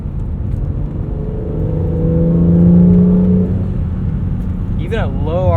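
A 2017 Acura NSX pulls at low revs, its engine a steady, loud low drone from inside the cabin that swells slightly midway, with a rising whine near the end.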